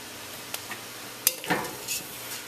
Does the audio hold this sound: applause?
no